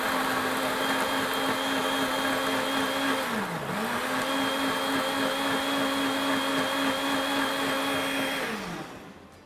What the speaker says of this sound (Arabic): نقفل الخلاط ونخلط.